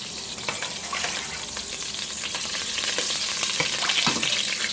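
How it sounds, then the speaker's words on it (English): Oil spooned into a hot pot holding stockfish for egusi soup hisses into a loud, steady sizzle, dotted with small pops and crackles that grow slightly denser toward the end. "Go ahead and scoop in the oil"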